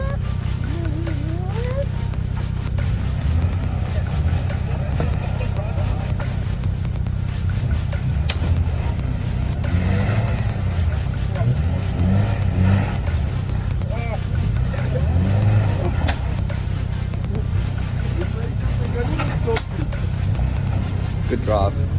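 A 4x4 off-road vehicle engine rumbles and revs steadily while rock crawling at an extreme off-road weekend in rain and mud, a continuous low drone with occasional surges, heard under frequent talking throughout.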